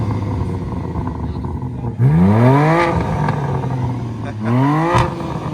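BMW G82 M4 with a high-flow downpipe revs hard twice, each sharp rising exhaust blip close and loud over a steady idle burble, with people chatting in the background.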